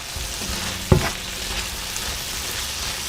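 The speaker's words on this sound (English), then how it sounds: "Send the chopped peppers to the pan with the other ingredients. Mix everything together again." Chopped bell peppers frying in a pan with other filling ingredients, a soft continuous sizzle with a single sharp clack of a utensil against the pan as they are stirred, close and steady.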